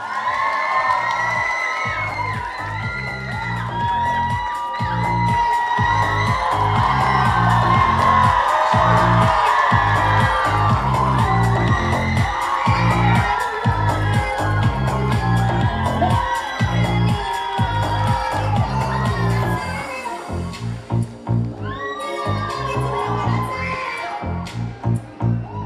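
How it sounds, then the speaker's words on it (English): A fashion show audience applauds and cheers loudly for the evening's showstopper model, with whoops and shouts rising over steady clapping that lasts throughout and thins out near the end. "Let's give her a round of applause."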